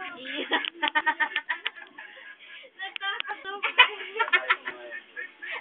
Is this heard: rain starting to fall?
no